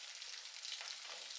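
Onions fry in hot coconut oil in a pan, giving a dense, continuous close-up sizzle with no talking.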